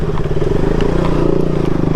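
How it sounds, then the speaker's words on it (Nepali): A motorcycle rides across a bridge on a hill route, its engine a loud, steady low rumble with rhythmic pulsing and light rattling throughout, close to the microphone. "पुलबाट पनि चलायो बाइक"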